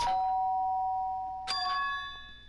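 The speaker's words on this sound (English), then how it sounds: "The doorbell? Does that mean someone's here?" A doorbell in the video game Super Danganronpa 2 rings twice, each a clear bright chime struck about a second and a half apart, ringing out cleanly in a quiet room at night.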